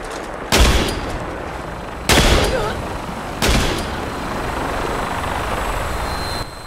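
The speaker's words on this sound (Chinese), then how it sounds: "那我的直升机正在赶往中" A helicopter arriving in the video game Fallout 76, a continuous rotor drone broken by three loud sharp gunshot-like bangs, with gunfire and combat noise around it.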